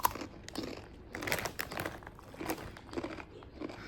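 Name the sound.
bag of Takis snack being opened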